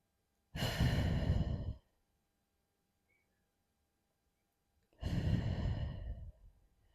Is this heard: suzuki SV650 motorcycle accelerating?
no